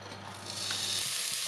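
Chili hits a hot oiled pan over high heat with a steady, close hiss of sizzling frying that holds evenly, with faint stirring underneath.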